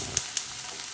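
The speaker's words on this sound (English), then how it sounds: "So I'm going to go ahead and start heating through my tortillas." Low-carb tortillas heat in a frying pan with a soft, even sizzle and two small crackling pops, close and quiet, with no voice.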